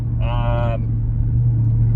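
A 2022 Dodge Charger Scat Pack fitted with an AWE Track Edition exhaust cruises in eighth gear, a steady low engine hum heard from inside the car, with a brief tonal chime early on.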